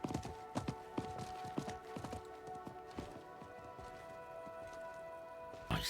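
Horse hooves clip-clop in an uneven rhythm in the Diablo IV video game, then the steady clopping gives way to a sustained musical drone, ending with a short, louder burst.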